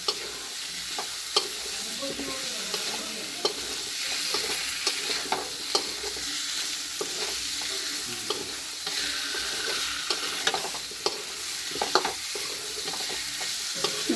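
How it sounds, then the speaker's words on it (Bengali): Mango pieces fry in a pan with crisp fried onions for a mango and poppy seed chutney. A continuous close sizzle runs throughout, punctuated by repeated scraping and clicking from steady stirring, with no voices. "আমি আম দিয়ে দিচ্ছি বেরেস্তা করে রেখেছি অল্প পরিমাণ দিয়ে দিলাম ভালো করে এবার ভেজে নিচ্ছি"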